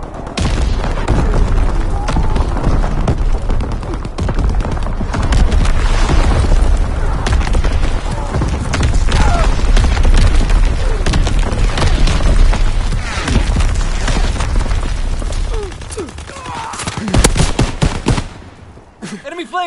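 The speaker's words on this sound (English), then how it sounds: "Incoming enemy artillery!" Enemy artillery explosions and heavy machine-gun fire in a PS4 war video game make a loud, continuous barrage of booms and rattling shots for nearly twenty seconds, fading near the end, with game voices calling out over it.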